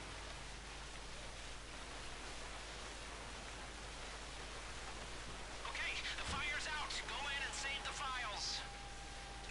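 A water cannon sprays onto a burning van in GTA 5, a steady broadband hiss of rushing water throughout, quiet and even, with brief voices and game sounds appearing near the end.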